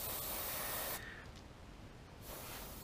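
An airbrush sprays thinned paint for a perch pattern, giving a steady close airy hiss that drops in level midway and then swells again near the end, with no talking.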